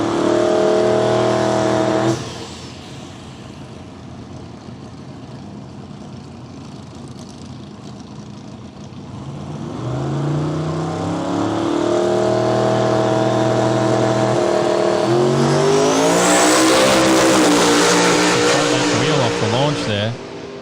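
A radial drag racing car makes a pass at Willowbank, Australia, its engine roaring loudly and revving through rising and falling pitches, with race commentary over the sound.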